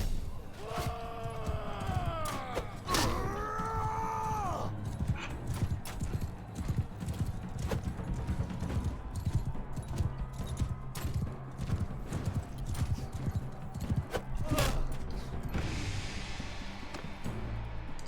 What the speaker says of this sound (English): At least we have horses. Everyone has horses though.